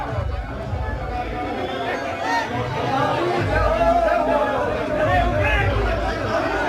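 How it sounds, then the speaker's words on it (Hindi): A large crowd of political party workers chatters at a BJP office inauguration, a dense, continuous hubbub of overlapping voices filling the space at fairly loud level throughout. "और कार्यकर्ताओं की जबरदस्त भीड़ यहां पर"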